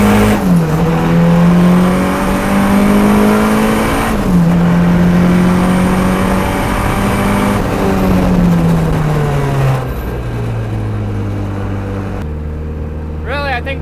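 A turbocharged K24-swapped Miata on the street with a noisy differential and solid motor mounts, its engine droning loud and close, pitch rising and dipping through gear changes before settling lower, with a person talking over it.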